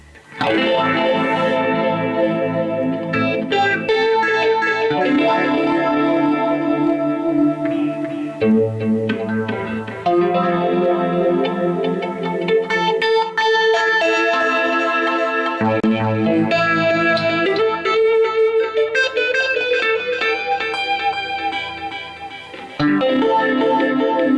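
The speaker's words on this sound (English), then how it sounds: "let's just stick a bit of chorus, a bit of phaser on it" Electric guitar playing continuous chords and melody through chorus, phaser and a BOSS DD-6 digital delay, swirling and shimmering, loud and steady throughout.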